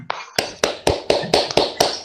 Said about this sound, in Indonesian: Tepuk tangan untuk Bu Siti Suri ya.